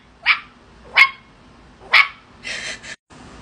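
A person imitates a chihuahua yapping: three sharp high barks about a second apart, then a couple of shorter rough yips.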